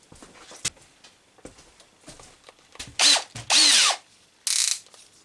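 A power drill fitted with a whisk attachment for mixing paint whirs in short bursts, first a few light blips, then three loud close runs of about half a second each with pauses between.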